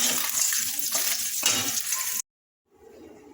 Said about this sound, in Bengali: এদিকে মাছও আমার ভাজা হয়ে এসছে